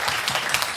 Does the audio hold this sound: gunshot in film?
no